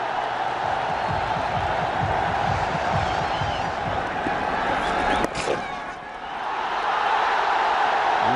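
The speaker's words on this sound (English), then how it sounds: "Listen to the crowd." Stadium crowd at a Bangladesh v India one-day cricket international in Mirpur roaring after a good shot, a dense sustained cheer from a distance under faint commentary, briefly dipping before swelling again.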